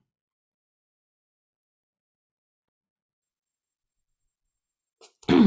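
Long silence, then a single abrupt, loud cough right at the end.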